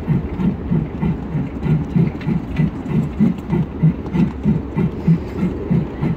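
A toy Thomas the Tank Engine steam train runs along its track outdoors, giving a steady, regular low rumble and clack about every third of a second, moderately loud and continuous, with no voices.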